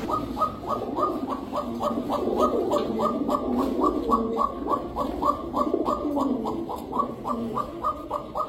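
Pigeons coo in a steady, rapid rhythm, with dozens of low, rolling calls repeating closely and continuously among several birds in a loft, with faint background noise beneath.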